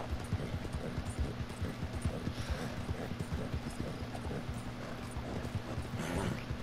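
Horse hooves in the Red Dead Redemption 2 video game, a steady clip-clop of a ridden horse continuing throughout, moderately close over outdoor game ambience.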